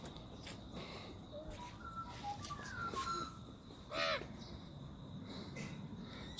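A magpie perched on a house aerial gives harsh, chattering squawks and caws, a scattered series of calls with a louder burst near the end, heard at moderate distance amid outdoor background noise.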